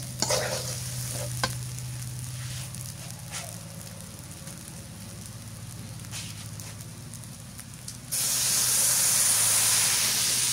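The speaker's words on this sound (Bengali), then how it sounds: "গরম পানি দিয়ে দিই।" Hot water poured into frying rice for beef pulao sizzles as a steady hiss, then bursts into a loud, broad steam roar after about eight seconds.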